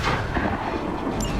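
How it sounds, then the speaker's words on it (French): Gunfire from the video game Marvel's Midnight Suns: a dense, loud, continuous barrage of shots and booms that runs through the whole moment without a break. "On nous tire dessus."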